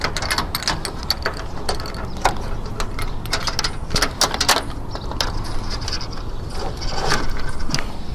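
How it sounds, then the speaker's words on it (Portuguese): Bolts are fitted to fix solar panels onto an aluminum mounting structure, giving a close run of small metallic clicks, taps and ratcheting rattles over a steady background noise, without talk. "Vou botar já o segundo parafuso, depois eu venho apertando."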